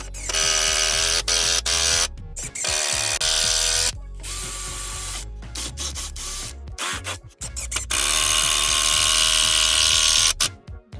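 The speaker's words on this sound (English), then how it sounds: "see if we can screw it in without damaging, breaking the timber" Power drill driving a screw into timber while fitting a support block to a bed frame, loud whirring bursts starting and stopping close by with brief pauses between, no talking.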